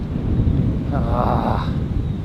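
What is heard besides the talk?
strong wind blowing near a jetty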